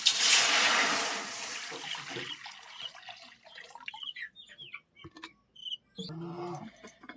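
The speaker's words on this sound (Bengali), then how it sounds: "এতে দিয়ে দেবো পানি।" Water pours into a cooking pan set on the stove, a loud rushing splash at the start that fades within about two seconds, followed by scattered faint drips and small clinks in a quiet kitchen.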